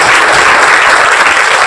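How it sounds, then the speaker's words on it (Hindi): Loud, dense audience applause fills the hall at a community stationery distribution event for needy students, steady and sustained throughout with no voices over it. "एक बार जोरदार तालियां बजा दीजिए।"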